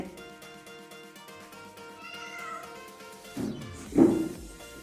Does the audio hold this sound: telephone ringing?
no